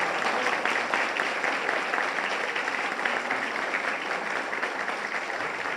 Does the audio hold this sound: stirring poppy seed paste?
no